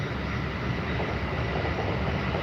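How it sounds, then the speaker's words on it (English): A train rumbles past close by on a track beside a cycling route in Taiwan, giving a dense, steady roar with a faint clatter and no break over its short length. "there goes the train."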